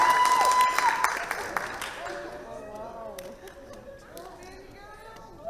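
An audience at a poetry and spoken word showcase breaks into applause, the clapping loud for the first couple of seconds and then thinning, with a voice and chatter continuing over the fading claps.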